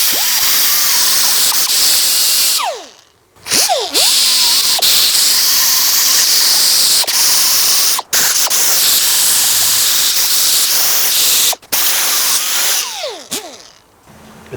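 Kimball Midwest Torque CB Cherry rust cleaner sprayed onto a rusty Dodge Ram emergency brake part in long loud hissing bursts, broken by several short pauses, with no talking.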